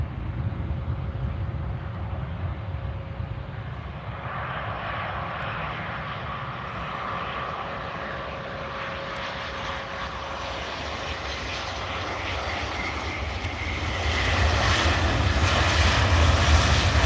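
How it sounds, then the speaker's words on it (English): Airbus A320 jet airliner engines roar steadily from a distance at Edinburgh Airport, with a broad rushing drone that swells louder toward the end. "So we've got the Vueling A320 from Barcelona."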